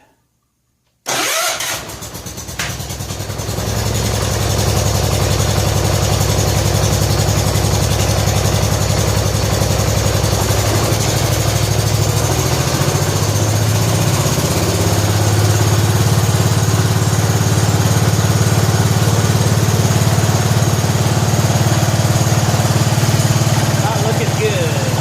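A 1970 John Deere 140 H3 garden tractor engine cranks over and catches after a second of silence, then runs at a loud, steady idle close by, with a voice speaking over the engine.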